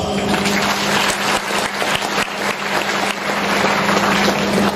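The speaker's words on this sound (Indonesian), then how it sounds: "Mari kita berikan aplaus." An audience claps at a religious lecture gathering, a dense, steady wash of applause that holds at fairly even loudness for several seconds with no voices over it.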